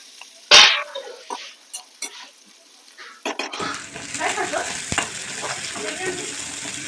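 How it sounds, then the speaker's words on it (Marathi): Onion dropped into hot tempering oil for a sprouted masoor usal, giving a loud sizzle burst at first, then scattered stirring clatter before a steady frying hiss settles in, with no talking. "आता कांदा टाकून आपल्याला एक दोन मिनिटं चांगला परतून घ्यायचा आहे"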